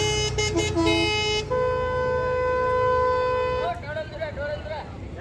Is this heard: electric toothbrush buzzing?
no